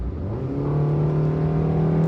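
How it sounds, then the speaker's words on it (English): A 2025 Suzuki Fronx accelerates hard from about 60 in a high gear at low revs, its engine droning as a steady rising hum heard loudly from inside the cabin, with no talking. "I'm gonna put my foot down, listen."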